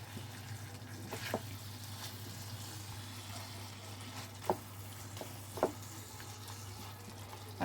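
Whisked yogurt and Kashmiri red chili paste frying over medium flame in a prawn masala pan, a faint steady sizzle under a constant low hum, broken by a few brief clatters and knocks.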